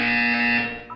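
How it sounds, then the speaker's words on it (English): A loud electronic buzzer in the video game Portal 2 sounds once as a harsh, sustained tonal blare for most of a second, then cuts off. "You will hear a buzzer."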